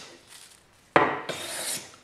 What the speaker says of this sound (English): I just go back to this little handmade jack slash smoother, and I can show them I can take off heavy cuts with it